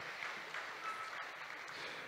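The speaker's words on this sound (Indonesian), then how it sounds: "Sekali lagi kita berikan tepuk tangan yang meriah untuk Institut Kesehatan YRC Mataram." An audience at a higher-education capacity-building ceremony for a health institute in Mataram claps together, a faint, distant, steady wash of applause without clear individual claps.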